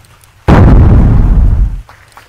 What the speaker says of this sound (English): Like you can just play C4, sit on it. It'll explode like pew pew pew pew.